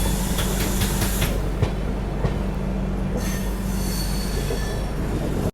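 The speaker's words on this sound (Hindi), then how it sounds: "जो पूरी ट्रेन कर्व ले रही है यहाँ पर" Steel wheels of the Ganga Sutlej Express passenger train squeal steadily and loudly as it takes a curve, over a constant rumble and rhythmic clacking of the rails.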